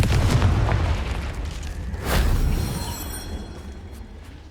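In Hogwarts Legacy, the Confringo explosive spell blasts with a deep, rumbling boom, a sharp bright crack near the middle, then a fading rolling tail.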